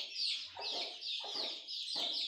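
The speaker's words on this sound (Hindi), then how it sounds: "ये मेरी बहुत ही अच्छी फाइटर मुर्गी है। ये 12 चूजे हैं इसके" An Aseel fighter hen with her twelve chicks, clucking in short repeated bursts close by, the chicks' high peeping chirps running continuously above the hen's calls.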